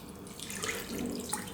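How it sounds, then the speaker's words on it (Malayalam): Water poured into a cooker holding chicken, a steady close splashing trickle running throughout with a slight gurgle near the end. "ഇനി ഇതിലേക്ക് നമുക്ക് 1/4 കപ്പ് വെള്ളം ഒഴിച്ചു കൊടുക്കാം"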